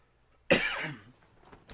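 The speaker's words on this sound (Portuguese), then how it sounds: "estou com a tosse um pouco aqui" A single harsh cough bursts out close up, trailing off into a short rasp, followed by near silence.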